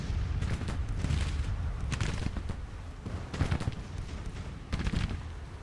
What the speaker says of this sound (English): This battle's just been one big artillery duel so far.